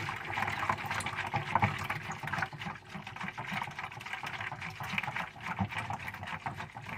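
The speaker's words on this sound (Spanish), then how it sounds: "aquí vamos a agregar lo que es la leche evaporada, pero se la va a ir poniendo despacito y sin dejar de mezclar" Evaporated milk trickles slowly into a lemon gelatin mixture while it is stirred, a steady close liquid pouring and sloshing that runs through the whole stretch.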